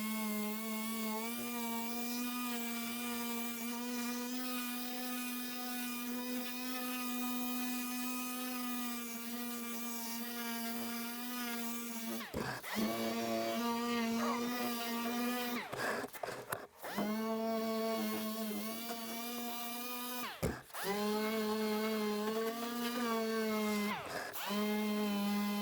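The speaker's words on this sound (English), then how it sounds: "Now I'm going to run 120 on the DA over everything." Dual-action sander with 120 grit paper running over a car rocker panel repair, a sustained whining motor tone that cuts off and restarts several times with brief pauses between passes.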